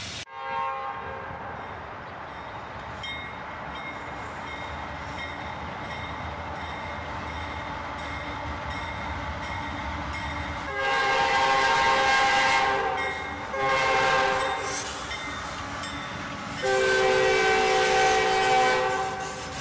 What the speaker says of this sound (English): And after that, another CSX train,